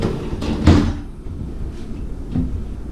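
A mostly empty wooden drawer in a hotel room kitchen slides open with a rumbling thud, followed by a softer sliding bump a couple of seconds later, close by.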